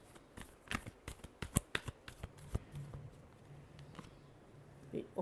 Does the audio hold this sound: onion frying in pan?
no